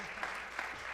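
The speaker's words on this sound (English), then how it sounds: "Let's give them another round of applause." Brief burst of audience applause for a jazz trio at a college jazz festival, steady dense clapping heard from within the room, short and moderately loud with a faint voice underneath.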